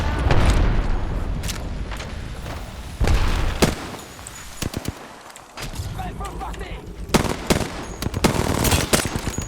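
A thrown frag grenade and bursts of gunfire in a shooter video game: rapid automatic fire, sharp single shots and a heavy booming blast, loud and close, with dense overlapping bursts toward the end.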